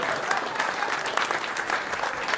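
A comedy club audience claps steadily in dense, even applause for a couple of seconds, fairly close, with no voices over it.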